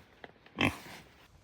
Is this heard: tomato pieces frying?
no